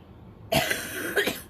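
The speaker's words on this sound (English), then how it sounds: "Got a cough because of it." A couple of short, raspy coughs close by, the second following about half a second after the first, against quiet room tone.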